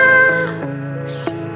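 A pet cat gives one drawn-out, close meow that wavers in pitch and ends with a brief upward squeak, loud and clear with no talking around it.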